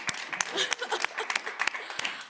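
Small gathering at a general meeting claps for two people, a sparse, uneven patter of individual hands with distinct sharp claps and murmuring voices underneath.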